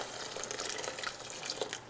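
Hot water from a kettle pours into a dish of part-broth chicken drippings for oven-baked chicken and rice. It makes a steady, soft splashing gush without a break and no talk over it.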